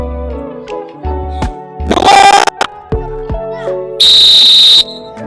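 A referee-style whistle blown during a PE class, two sharp bursts: one shrill, slightly ragged blast near the middle and a longer steady high tone later, amid loud nearby talk and clatter.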